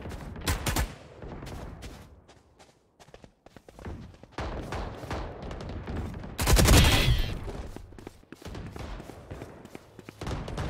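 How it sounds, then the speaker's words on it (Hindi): Rapid automatic gunfire from the Blastx Phantom rifle in Valorant, in several sharp bursts with short gaps between them and one especially loud burst near the middle, plus light in-game footsteps and thuds. "बहुत अच्छा साउंड आ रहा है मेरे को इस गन का"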